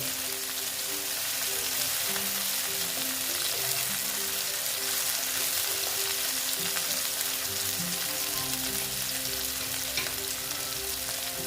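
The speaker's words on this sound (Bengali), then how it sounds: "পেঁয়াজের সঙ্গে টমেটোটা আর কি ভালো মতো ভেজে নিচ্ছি" Onion and tomato frying together in a pan, a dense, even hiss of sizzling oil held steady throughout with a faint tonal hum beneath; close, with no talking.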